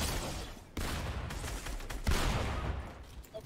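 Shotgun fire in the Fortnite video game, a dense, noisy stretch of close blasts and gameplay clatter with a few sharp booms standing out, steady and loud throughout with no voices.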